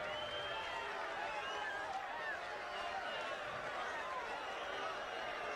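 A large crowd at the 1979 US Open tennis match between Ilie Nastase and John McEnroe, steadily jeering and clamoring in protest at a penalty, a continuous dense roar of many voices at a distance.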